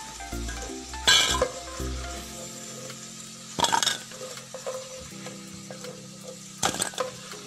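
Potatoes stir-fried in a pan, a steady close sizzle broken by a few loud metallic scrapes and clanks from the spatula, with no one talking.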